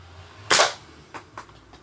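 A Nerf toy gun fires once with a sharp, loud snap, followed by two fainter clicks or clatters from handling the blaster, no voices present.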